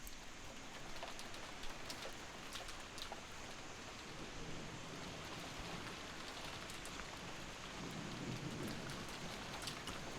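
Steady rain with wind in the Umineko visual novel: a continuous, fairly faint wash of rainfall with scattered sharper drops and a low rumble swelling near the end, with no voices.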